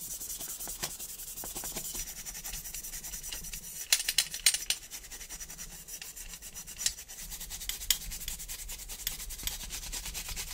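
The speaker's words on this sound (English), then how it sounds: "I'm gonna go ahead and Scotch-Brite the whole thing." A Scotch-Brite pad scuffs a diecast Volkswagen Beetle body in faint, continuous close-up rubbing strokes with a few sharper scratches, no voices.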